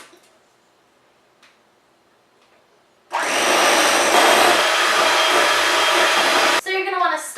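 An electric stand mixer on a low setting hums steadily for a few seconds while powdered sugar is blended in, coming in abruptly after near silence and then cutting out.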